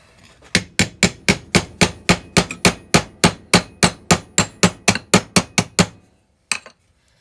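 A small body hammer strikes a dented, rusty metal part in a steady run of about twenty sharp, evenly spaced blows, loud and close, followed by a short pause and one or two final taps.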